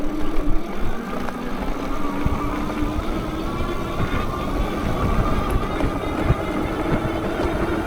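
An ENGWE electric bike that looks like a motorcycle, with a slow-start motor protection, hums steadily as it gently builds power, with a continuous low rumble and rattling over cobbles.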